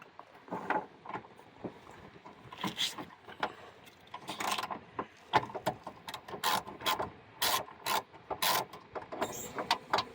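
Ratchet with a 10 mm swivel socket loosening a bolt on the left rear window regulator of a 2001 Pontiac Grand Prix GTP: quick clicking pawl bursts in uneven spurts, fairly close and moderately quiet, with no talking.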